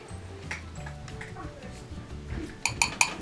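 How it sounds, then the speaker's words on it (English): A fork taps against a bowl to shake excess melted chocolate off a homemade chocolate peanut butter egg, giving a quick run of bright clinks near the end after some talking and soft kitchen handling. "Tap, tap, tap, tap off that excess as much as possible"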